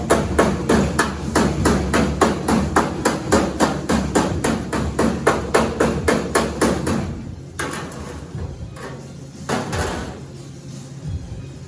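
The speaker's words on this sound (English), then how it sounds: "some of these gaps are too much, so I'm gonna hammer it down" A hammer strikes metal body panel gaps on a 1965 Mustang in rapid, evenly spaced blows, loud and close, then pauses before a few more scattered knocks.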